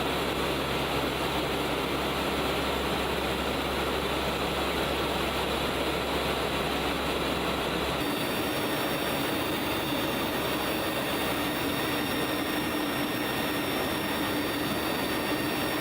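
Continuous broadband roar of C-130 gunship propeller engines running, steady and loud throughout, with a drop in the low rumble partway through and no voices.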